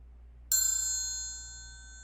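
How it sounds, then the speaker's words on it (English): A struck triangle rings out once with a sharp metallic onset, then sustains a long, bright, slowly fading shimmer over a quiet background hum. "The triangle."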